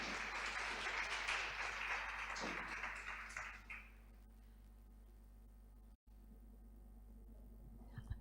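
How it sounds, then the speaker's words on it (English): Audience at a Women in Data Science conference applauds a speaker for about four seconds, then the clapping fades into a quiet hall with low hum. "In your applause, of course."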